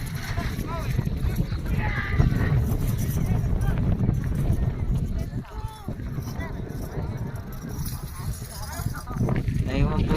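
Carabao racing in a Class B elimination heat at Santor, Bongabon, with hoofbeats and clip-clop running on continuously under a steady crowd roar and excited commentary through most of the run.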